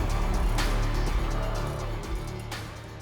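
A Lamborghini Huracan Tecnica cruising on a highway in Strada mode, its engine a loud, steady low rumble with road roar that eases slightly toward the end.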